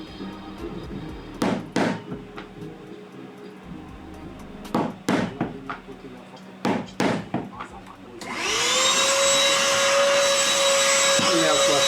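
A power drill bores holes through bag material set on a drilling board while a crossbody bag is being made: a few sharp knocks and taps come first, then a steady, loud motor whine runs for the last few seconds.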